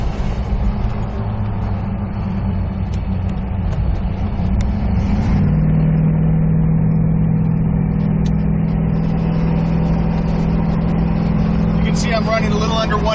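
The 1989 Toyota 4Runner, swapped to a 350 Chevy V8, drives off with a loud, steady engine drone. About halfway through the pitch rises and holds as the truck accelerates, heard from inside the cab with a voice talking over it.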